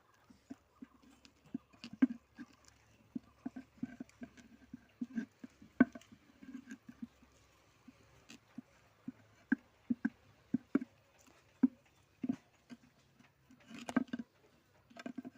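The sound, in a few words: stirring a liquid culture with a ladle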